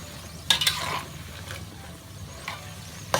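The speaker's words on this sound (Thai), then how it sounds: "ขอทอดต่อนิดนึง" Cashew nuts fry in hot oil with a soft sizzle, broken by a few sharp clinks and scrapes of a utensil against the pan, the loudest near the start and one more at the very end.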